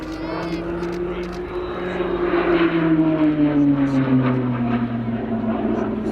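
Fixed-wing training aircraft at an airshow flying a maximum performance turn at 4.5 G, its loud engine drone sliding steadily in pitch as it sweeps past, with a faint voice underneath.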